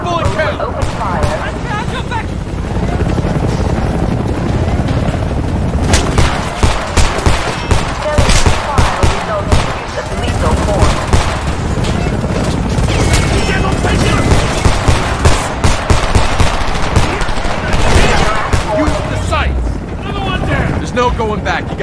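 Dense gunfire and machine-gun bursts rattle nonstop through a firefight in the video game Homefront, with rapid shots layered over a rumbling backdrop and shouting voices.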